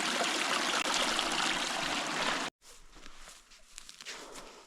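Stream flowing into a karst sinkhole on the Pokljuka plateau, a close steady rush of water that cuts off abruptly midway, followed by quieter trickling and patter.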